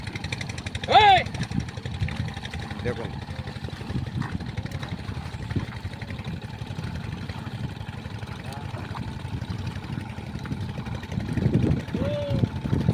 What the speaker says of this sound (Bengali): এই মিনি পাওয়ার টিলার দিয়ে চাষ হচ্ছে, সুন্দর চাষ হচ্ছে